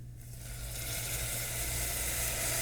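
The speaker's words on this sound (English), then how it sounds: "now I'm gonna go in with a little bit of cognac, French cognac" French cognac poured into a hot pan while making lobster thermidor, a loud close sizzle swelling into a steady, bright hiss that holds to the end.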